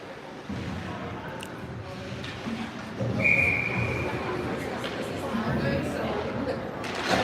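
A young referee's whistle at a U12 youth ice hockey tournament game sounds one short, shrill blast from the far end of the rink, under a play-by-play announcer's voice and the rink's echoing noise.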